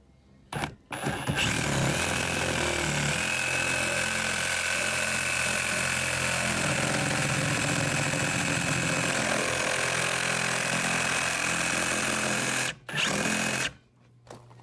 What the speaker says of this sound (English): try to use a very fine tooth on my Sawzall